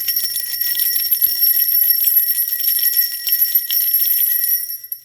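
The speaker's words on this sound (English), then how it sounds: "I'm going to give us a little energetic cleanse with the bells." Bright, high metallic bells ring continuously with a shimmering sustained tone, steady and fairly loud throughout, fading slightly at the end.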